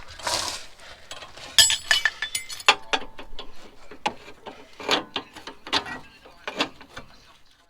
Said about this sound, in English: I'm going to have to put a ring spanner on that end.